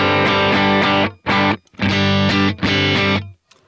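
Electric guitar played through a Klon-based overdrive pedal with custom tweaks, giving loud, crunchy distorted chords in several sustained strummed bursts separated by short gaps, then a brief quiet tail.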